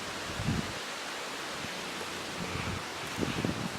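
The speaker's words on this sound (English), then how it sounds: "That vine is swaying in the wind." Wind sways a vine up in the trees, giving a steady soft rush of outdoor air with a few slightly louder gusts of rustling, no voices.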